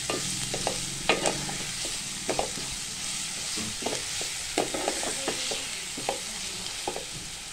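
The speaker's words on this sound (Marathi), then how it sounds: "हा जो हिरवा मसाला आहे आपला, हा चांगला परतवून घ्यायचा आहे।" Green masala for chicken keema pav is stir-fried in a pan, a steady sizzle broken by repeated sharp scrapes and clacks of the spoon at an uneven rhythm, close and clear with no speech.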